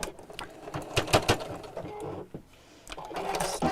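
Close, loud sewing machine stitching fabric for a chair cushion, with a rapid mechanical needle rattle broken by uneven bursts and sharp clicks, and a brief slowdown near the middle before speeding up again.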